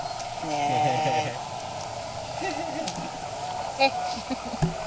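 Goats kept around a grave site give wavering bleats early on, partly under nearby talking, with a few scattered clicks and knocks later in an outdoor setting.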